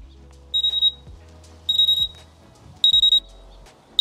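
Loud color-changing alarm clock set to 95 decibels, ringing in four bursts of rapid, piercing high beeps separated by pauses, with low room noise between the bursts.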